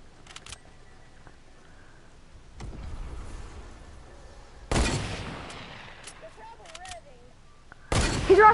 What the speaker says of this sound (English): They're trying to use a hand cannon.